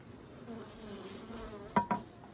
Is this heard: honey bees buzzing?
yes